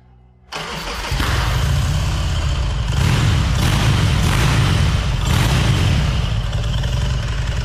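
A custom-built motorcycle engine cranks and fires up abruptly, then settles into a loud, steady, throbbing idle that runs on alone without talk.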